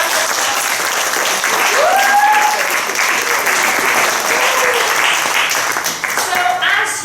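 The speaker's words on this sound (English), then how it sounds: "Can we give a round of applause?" Loud, sustained applause fills the room from an audience at a school spotlight show, a dense burst of clapping that holds steady and tapers slightly near the end, with a brief voice over it.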